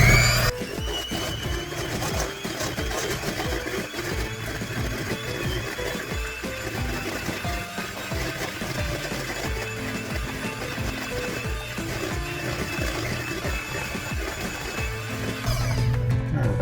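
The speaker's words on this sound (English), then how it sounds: "Then we just want to use an electric mixer, and we want to mix it in until it's nice and smooth." An electric mixer works a dough until it is smooth, running with a continuous busy mechanical whir and rattle throughout.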